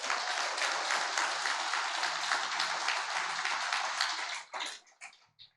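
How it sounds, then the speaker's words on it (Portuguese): A church congregation claps together in a steady, dense burst of applause for several seconds, then the clapping thins out and trails off into a few scattered final claps. "Se você acredita, aplauda o Senhor"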